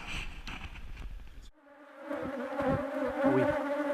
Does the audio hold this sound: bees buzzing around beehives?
yes